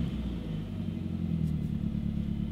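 Mazdaspeed3 hatchback engine idling just after start-up at night, a steady low rumble with a faint uneven throb, fairly quiet and alone with no talking.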